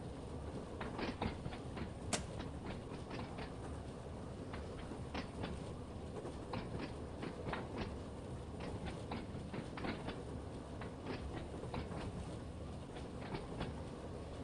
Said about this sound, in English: put the brakes on slightly because we're going downhill